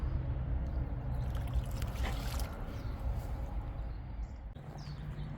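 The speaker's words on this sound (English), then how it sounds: "All right, pump is running." A home pool pump runs after a diverter valve repair, water flowing and trickling with a steady churning rumble, close and continuous without speech.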